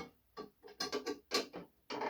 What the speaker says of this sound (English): So now I got a post bed sewing machine. Works.